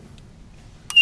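A PLC-controlled home alarm system gives a brief electronic beep at the very end, loud and close after near silence.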